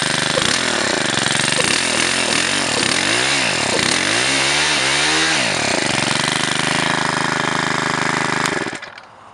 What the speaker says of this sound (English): Rev it a couple times.